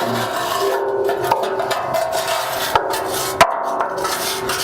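A wire brush scrubs loose rust off the bumper of a 1966 Buick Riviera, producing a steady close raspy scraping with a few sharper knocks.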